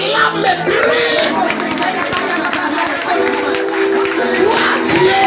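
A church congregation cheers and acclaims during a prayer service, with a loud, dense crowd of shouting and chattering voices that keeps up throughout.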